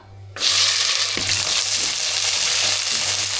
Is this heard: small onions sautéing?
yes